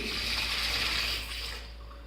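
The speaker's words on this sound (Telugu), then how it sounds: "వాటర్ని అయితే నేను దీనిలో పోసుకున్నానండి ఇది ఆల్మోస్ట్ ఫుల్ అయింది" Water runs steadily into a household water filter that is almost full, a close, continuous rushing and splashing that thins out and softens toward the end.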